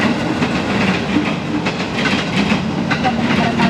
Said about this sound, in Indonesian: Ya, Pak Ari dengerin suara kereta ya, Bu.